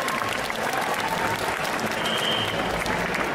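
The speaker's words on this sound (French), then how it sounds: "Allez, on les applaudit encore une fois," Sustained audience clapping at a cosplay contest during an indoor fan festival, a dense continuous wash of applause filling the hall.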